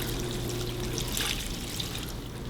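Tap water pours steadily into a cooking pot for vegetable stock, a continuous close, fairly loud splashing rush with no pauses.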